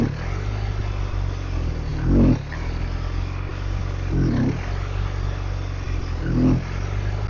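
Motorcycle engine idling steadily, then blipped in three short revs while the clutch slips in the friction zone, each rise brief and close.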